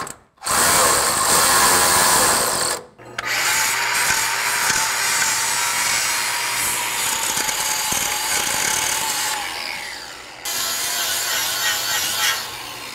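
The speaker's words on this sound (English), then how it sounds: "I drilled an extra hole, just a little bit more inboard on each one of these bad boys" A power drill bores holes into the steel frame of a 1955 Buick Special, a loud, close, continuous whine broken by two brief pauses near the start and easing slightly toward the end.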